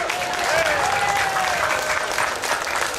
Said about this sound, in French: J'aimerais vraiment que vous l'applaudissiez pour ça